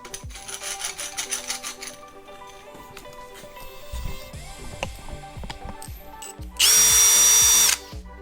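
An electrician's hammer drill runs at speed 2, giving one loud, harsh burst of about a second that stands out sharply over quieter background clatter.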